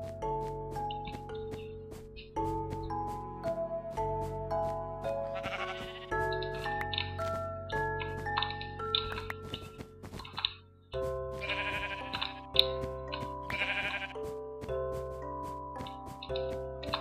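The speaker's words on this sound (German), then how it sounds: "Viele Schafe sind hier." Sheep in the Minecraft video game bleat repeatedly over an ongoing game melody, the bleats recurring at varied intervals across the scene.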